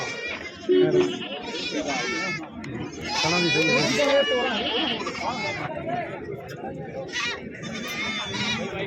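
Goats bleat repeatedly at a rural goat fair and competition in Bhallaiana, Punjab, close and loud, while people chatter and talk over them throughout.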